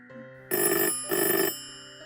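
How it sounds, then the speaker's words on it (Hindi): A telephone bell rings in two loud, bright bursts with a short pause between, over a steady musical background. "अनिल उससे कुछ भी पूछता कि तभी फोन की घंटी बजी।"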